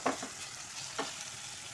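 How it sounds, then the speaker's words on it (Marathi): Onion sautéing in a pan with a little salt for chicken keema, a steady soft sizzle with a couple of brief stirring scrapes near the start and around the one-second mark, no voices. "इथे मी कांदा चांगला परतून घेते"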